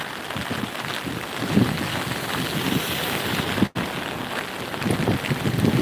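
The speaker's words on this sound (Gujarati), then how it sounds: "વરસાદ એ બહુ જોરદાર પડી રહ્યો છે" Heavy rain pours down over the Banas River at Abiyana in a dense, continuous hiss, loud and close, with a brief dropout partway through and no voices.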